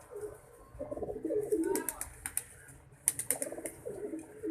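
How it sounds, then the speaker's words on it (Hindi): Pigeons cooing inside a loft of breeder birds of mixed breeds, soft low repeated coos layered over one another at close range, with occasional sharper chirps and rustling. "इनमें ज़्यादातर हमारे ब्रीडर कबूतर हैं।"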